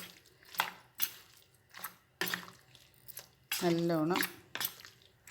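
A spoon clinks and scrapes against a bowl while chicken is mixed with curd, sounding as sharp knocks at a loose, uneven pace, with a voice speaking briefly between the strokes.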